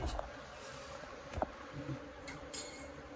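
Honeybees from a hive buzz steadily around the listener, a continuous droning hum with a few louder passes as individual bees fly close.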